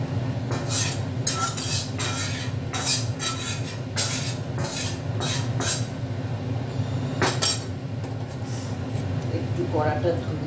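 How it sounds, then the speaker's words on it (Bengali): A metal kadai is washed and water added in a home kitchen after making dal. Irregular clanks and clinks of the pan sound over a constant hiss of water, with a voice speaking briefly underneath. "একটু কড়াটা ধুয়ে জল দিয়ে দেবো।"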